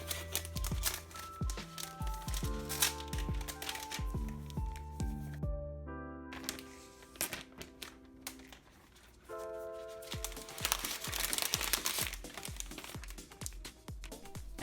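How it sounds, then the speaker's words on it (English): Crinkly, squishy rustling of protective plastic film being peeled off a new 13-inch MacBook Pro, a close, continuous crackle with scattered sharp crinkles, over a faint background musical tone. "And now we're going to remove the plastic off of the computer itself"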